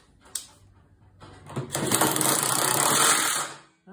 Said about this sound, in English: I have my little impact, my little Makita impact that I use, and I'm going to run this bolt back in